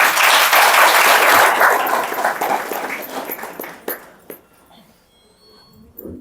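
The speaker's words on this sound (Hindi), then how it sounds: "अपने लिए एक बार तालियां बजा दो।" Audience clapping at a Shivaratri spiritual gathering, starting as a full, loud round and tapering off into a few scattered claps before fading to near quiet.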